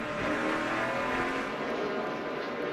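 NASCAR Sprint Cup stock cars race at Martinsville in 2010, a dense continuous roar of V8 engines and crowd-level rumble filling the whole stretch with no break or talk.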